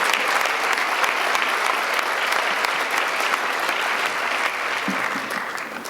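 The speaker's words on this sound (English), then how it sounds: "let's give all our administrators a round of applause as they come back and join you" An audience at a county education awards ceremony applauds returning school administrators with a full, even wash of clapping that holds steady throughout and tapers slightly near the end.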